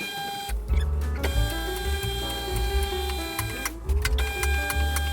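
An electric car hoist raises a 1957 oval-window VW Beetle, with a steady close motor hum and whine, a few clunks and ticking mechanical clicks, and no talking.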